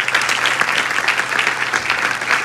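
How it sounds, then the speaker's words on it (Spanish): Steady, dense applause from a large audience at a nursing capping ceremony, many hands clapping loudly and continuously with no pauses. "Un fuerte aplauso para ustedes,"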